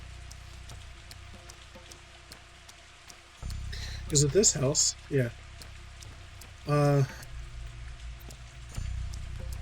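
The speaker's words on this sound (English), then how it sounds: "It's raining." Rain falling in Pathologic 2, a steady soft hiss of rainfall running throughout while people briefly talk over it.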